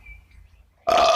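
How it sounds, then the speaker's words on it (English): Mr. Fox, a fox at a great feast, lets out a single loud, tremendous belch that bursts in abruptly after a quiet pause and holds for a moment. "he let out a tremendous belch"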